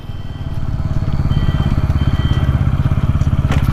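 A Bajaj Pulsar N160 4V SS motorcycle engine fires up and settles into a steady, close, rapidly pulsing idle thrum that holds loud and even throughout.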